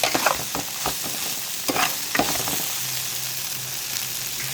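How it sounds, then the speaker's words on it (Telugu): Okra pieces cooking in chili powder and oil, a strong steady sizzle with several spoon scrapes and taps in the first half, then settling into an even frying hiss; no one speaks. "కారంలో మగ్గనిద్దాం బెండకాయ ముక్కలు"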